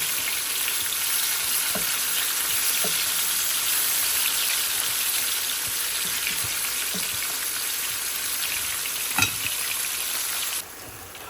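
Small mola and puti fish fry in a pan with steady, close sizzling throughout, broken by a few soft clinks and one sharper knock as the pieces are turned over, then the hiss drops slightly near the end.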